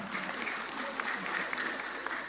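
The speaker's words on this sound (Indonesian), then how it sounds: "Tepuk tangan." Steady applause from a large audience at a university graduation ceremony, faint and distant, filling the whole stretch without pause.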